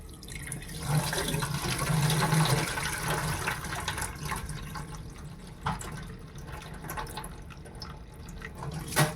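Sesame seeds are washed in a vessel of water, with continuous sloshing, trickling and splashing at a moderate level and a few sharper clinks near the end.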